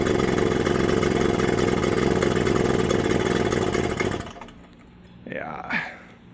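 Two-stroke engine of a 1979 Suzuki JR50 minibike, running rough and struggling to idle with a buzzy, uneven drone for about four seconds before cutting out, followed by a brief bit of talking nearby.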